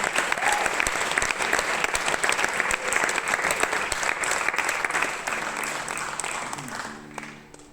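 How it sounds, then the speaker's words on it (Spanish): Concert audience applause at a live show in a Zaragoza cultural centre, a loud continuous wash of clapping that fades toward the end as a musical tone starts underneath. "Que nos damos un aplauso a todo el mundo para vosotros."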